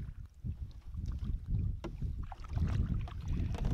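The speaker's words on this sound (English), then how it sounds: "I'm just doing the draw stroke, and I can pretty much spin this boat around." A canoe paddle pulls through the water in repeated swishing, gurgling draw strokes, close by, with some wind buffeting.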